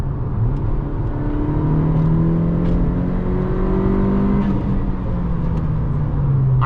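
Engine of a 2020 Honda Civic Si in sport mode, downshifting from fourth to third gear, heard from inside the car: a steady droning hum whose pitch rises and shifts as the revs climb, with no talking.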